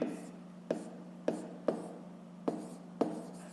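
A pen moves across paper in short scratchy strokes with sharp taps at roughly half-second intervals, close and quiet, as math exercise answers are written out.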